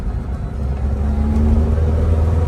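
A 1999 Mercedes SLK230 with a variable valve timing fault on a test drive, its engine humming steadily and rising gently in pitch as it pulls, heard from inside the cabin.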